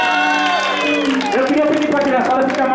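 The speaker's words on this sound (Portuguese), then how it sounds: "Pode bater palmas que ela merece" A crowd at an 18th birthday party for Amanda applauds and cheers for her, a dense, loud burst of clapping and whoops mixed with voices.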